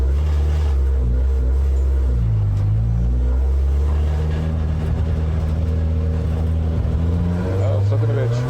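Car engine intake roaring loudly through a race run, with shifting harmonic bands as the engine revs up and down between gear changes, near and constant, with voices talking over it.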